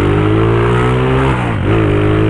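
A Honda Today motorcycle engine revving hard up close, a loud steady buzzing drone that briefly dips in pitch and climbs back up.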